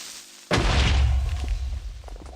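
A sudden loud boom from a Minecraft explosion erupts after a quiet moment, followed by a rumbling low tail and scattered debris crackles that fade over about two seconds.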